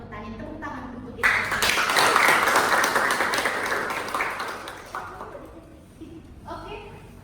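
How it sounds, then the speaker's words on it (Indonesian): A classroom group claps together in a burst of applause lasting several seconds after an accounting lesson on Islamic financing, fading out as a voice resumes speaking. "Tepuk tangan untuk itu."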